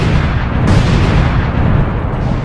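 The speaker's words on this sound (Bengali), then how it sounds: "এখন চুপচাপ স্টিকি বম লাগিয়ে দিই আর স্টিকি বমগুলো এখন ব্লাস্ট করতে হবে" Sticky bombs go off in an open-world action video game. The blast is loud and continuous, with a dense roaring rumble that fills the whole moment without a break.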